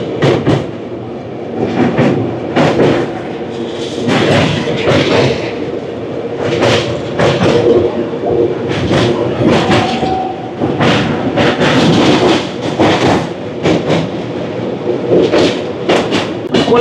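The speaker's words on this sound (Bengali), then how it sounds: "এটা কোলাঘাটের ব্রিজ পেরোচ্ছি আমরা এখন" The 12245 Howrah–SMVT Bengaluru Duronto Express rumbles loudly across the Kolaghat bridge over the Rupnarayan river, with steady rolling noise and repeated rhythmic wheel thumps and clatter from close by.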